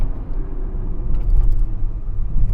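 Cabin noise of a GAC car driving over road imperfections: loud low rumble with irregular thumps and rattling bumps from the uneven surface, no talk.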